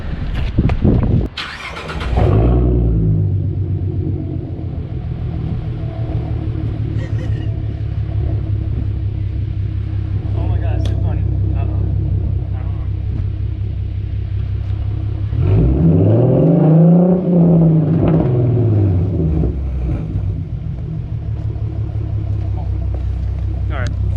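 A car's exhaust idles with a steady, close rumble while inflating 6 ft balloons, with a sharp burst early on and a swelling, rising whoosh partway through as a balloon fills.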